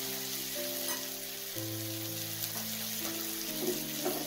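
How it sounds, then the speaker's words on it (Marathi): Chopped onion and tomato frying in a pan, a steady broadband sizzle that holds even throughout, with faint stirring. Low tonal hum and music run underneath, and nobody speaks. "एक ते 2 मिनिटं हा कांदा आणि टोमॅटो चांगला परतवायचा, म्हणजे लालसर होईपर्यंत"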